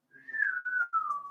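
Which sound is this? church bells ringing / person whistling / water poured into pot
person whistling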